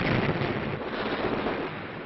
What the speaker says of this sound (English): Bombardiers blast everything afloat, making 80 direct hits on the 22 ships, dropping a total of 226 tons of bombs.